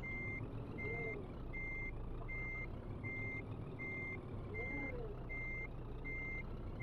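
A Scania R truck in Black Amber paint reverses in Euro Truck Simulator 2, its backup alarm giving a steady, evenly spaced run of beeps over the continuous low rumble of the idling engine.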